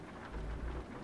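Rain falling in a heavy cargo truck simulator game during an off-road convoy drive, a steady soft hiss with a low rumbling swell that builds midway, no talking.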